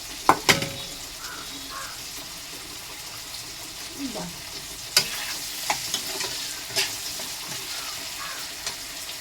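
Onion frying in a home kitchen pan, a soft sizzle with scattered scraping stirs and sharp clinks across the stretch, plus a brief watery splash near the start; quiet and close.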